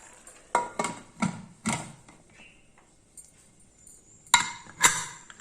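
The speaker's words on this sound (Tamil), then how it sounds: "குக்கர் மூடி போட்டேன்" A pressure cooker lid is fitted and locked with about six sharp metallic clanks and clinks, close by, in two uneven clusters separated by a quiet gap, while green gram rice boils inside.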